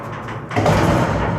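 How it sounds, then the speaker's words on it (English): A steel trailer gate on a 2026 Cimarron Lonestar stock trailer swings shut and slams into a thick plastic anti-rattle latch, one loud broadband impact midway followed by a ringing, rumbling tail. "and then it just slams in there."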